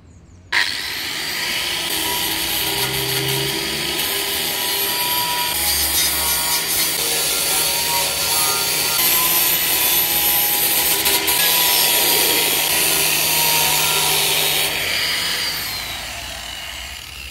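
A grinder deburrs sharp metal edges in a blacksmithing shop, starting abruptly and running as a continuous loud, close, gritty grinding hiss that shifts in tone as the metal is worked, then fades near the end; no talk.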